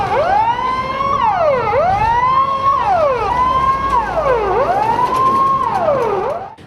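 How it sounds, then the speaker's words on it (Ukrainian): A fire engine's wailing siren rises and falls repeatedly, loud and close, as it arrives at a theatre in a narrow city-centre street during a fire drill. "Аби пожежні машини змогли дістатись будинку"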